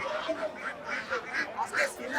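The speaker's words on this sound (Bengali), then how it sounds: "এই যে দেখুন বড় 2টা চীনা হাঁস" Several raspy quacks from Muscovy ducks come in quick, uneven bursts close by at a village poultry market in Mirzapur, Gazipur, with faint background noise throughout.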